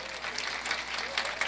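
A church congregation claps briefly in a steady, moderately loud patter, with no voices over it.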